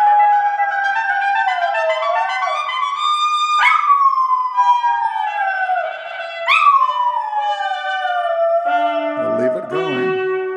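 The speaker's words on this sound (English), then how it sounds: "She's getting ready to howl for Sunday morning." A dog howling along to a CBS Sunday Morning broadcast playing nearby, loud sustained howls that slide downward in pitch, repeated several times up close, with a few yips near the end.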